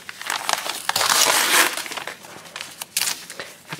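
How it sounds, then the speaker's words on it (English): Paper crinkles and crushes close up as it is pulled from the seams of a fabric tulip, in bursts of rustling that swell and fade with a few sharper crackles. "make sure you take the paper out that's in the seams"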